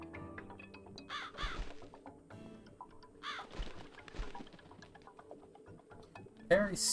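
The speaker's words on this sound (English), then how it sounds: "Follow the crow." Crow cawing in the video game The Cat Lady, repeated harsh calls at several points over quiet game ambience and soft clicks, with a louder burst near the end.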